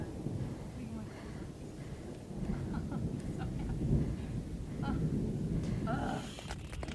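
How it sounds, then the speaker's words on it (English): Thunder rolls during a thunderstorm in Yosemite, heard from inside a tent as low rumbles that swell and fade over several seconds, with light rain and faint movement nearby; no one speaks over it. "Uh-oh. There's thunder."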